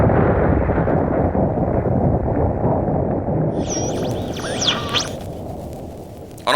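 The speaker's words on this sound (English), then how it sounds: "a new type of bomb was dropped over the central part of Hiroshima" A massive atomic bomb blast over Hiroshima, a continuous loud roaring rumble that stays heavy and sustained throughout, with thin whistling tones rising in on top toward the end before a sharp final burst.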